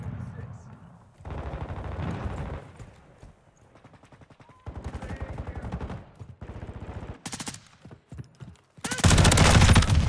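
Bursts of light machine gun fire in Call of Duty Modern Warfare II multiplayer, several long rapid volleys and shorter strings of shots, loud and close, with a player talking between them.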